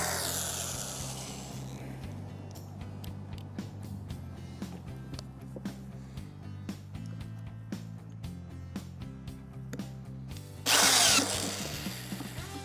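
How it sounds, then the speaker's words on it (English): Power screwdriver driving screws into parts of an outdoor fish cleaning station, heard as repeated short clicking, ratcheting bursts over a low steady hum, with one loud harsh burst near the end. "Screwing this down."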